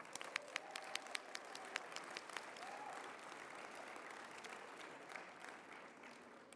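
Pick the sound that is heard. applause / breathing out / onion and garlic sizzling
applause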